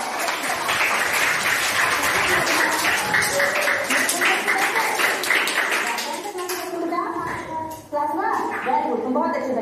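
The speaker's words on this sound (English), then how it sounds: "Clap your hands." Children clapping their hands together in a classroom during a lesson on good and bad touch, a dense, steady burst of many small hands that thins toward the end, with voices chattering underneath.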